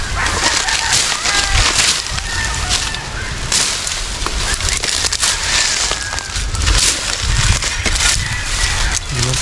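Chickens on a poultry farm cluck and squawk in a busy, close din, with scattered crackles and rustling throughout and faint voices in the background.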